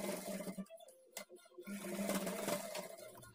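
A sewing machine stitches a folded blouse edge, running in short close bursts with a brief pause in the middle.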